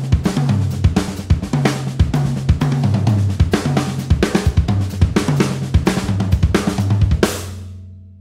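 Solo drum set improvisation built from groups of four and two, dense fast flurries of snare, tom and kick hits with cymbal crashes, loud and continuous before a final crash rings away.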